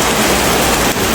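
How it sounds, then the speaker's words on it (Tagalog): Heavy rain pouring down steadily, a dense broadband hiss with a brief dip near the end and no voices. "lakas ng ulan"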